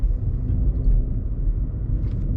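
A 2011 Skoda Fabia HTP drives along the road, heard from inside the cabin as a steady, loud low engine and road rumble with no voices.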